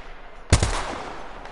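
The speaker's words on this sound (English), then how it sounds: "Yeah, they're shooting some too." Video game gunfire, a single sharp shot with a short rattling tail, fairly quiet against a faint background.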